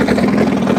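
A rusty old Soviet car with a stock 8-valve engine and a short straight-through exhaust roars in a brief, loud, continuous burst of deep drone.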